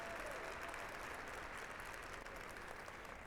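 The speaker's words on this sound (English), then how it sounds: "Let me give you a round of applause." A round of applause from spectators at a Road to the Horse horsemanship clinic, a steady, moderately distant wash of clapping that carries evenly from start to finish.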